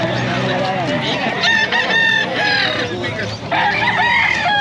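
Chickens, including gamecocks, cluck and a rooster crows nearby, a busy continuous chorus with people talking faintly underneath at a pet market in Calumpit, Philippines.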